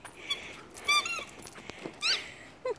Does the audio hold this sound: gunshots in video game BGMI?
no